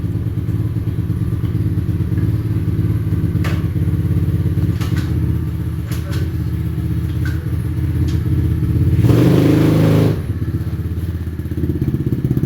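An SSR125 motorcycle engine with a newly fitted Nibbi carburetor runs loud and close, a steady mid-pitched rumble with scattered clicks and a brief louder rev near the end, no speech.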